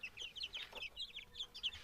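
Many small Fayoumi chicks peep in rapid, high-pitched chirps, close by and continuous, with no talking.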